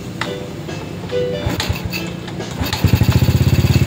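A Honda XRM 110 motorcycle with an intermittent electrical fault runs close by, with uneven sputters and clicks early on that settle into a rapid, regular idle pulse.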